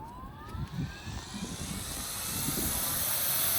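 A 1/32-scale RC Apache AH-64 helicopter spools up in low-rate, low-head-speed mode, its whine rising steadily in pitch and growing louder as the rotor gains speed, close by and with no talking.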